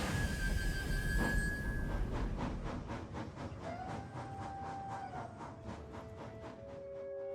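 The Flying Scotsman steam locomotive runs with a loud hissing rush that fades into a steady rhythmic chuffing beat, with faint whistle-like tones drifting in toward the end.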